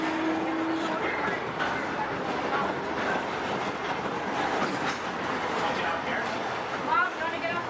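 A Disney theme park railroad train rolls along with a steady rumble and faint clatter, while people talk over it throughout.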